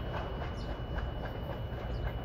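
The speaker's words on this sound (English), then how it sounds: "I've never seen an empty military train before." A CSX military freight train, running empty, rumbles past steadily with a faint rhythmic clickety-clack of wheels over rail joints, continuous and moderately loud, no voices.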